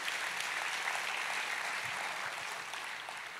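A church congregation claps in response to a pastor's call during a sermon, a steady broadband wash of applause that holds evenly throughout and tapers slightly at the end.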